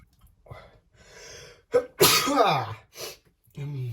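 A single loud sneeze bursts out during a kitchen session of slicing and packing marinated fish, with quiet talk before it and a short spoken reply right after.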